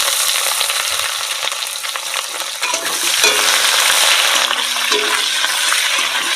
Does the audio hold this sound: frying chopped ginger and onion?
yes